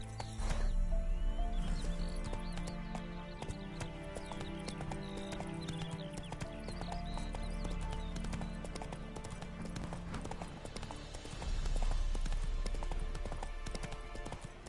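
Hooves of a galloping horse in a PS4 video game drum in a quick, continuous clip-clop over busy game sounds, with a brief whinny and a second louder burst of hooves near the end.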